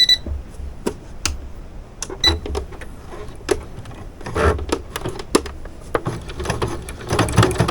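A domestic sewing machine runs in short, uneven bursts while stitching a quarter-inch seam in fabric, its clattering needle separated by pauses, clicks and handling noises, fairly close and loud.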